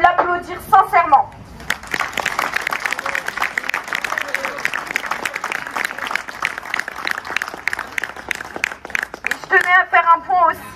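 A crowd at a rally in Lyon claps steadily for several seconds, a dense patter of applause between bursts of speech at the start and end.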